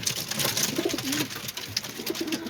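Pigeons coo in low, repeated throaty calls close by in a coop, over a constant rustling and scratching background.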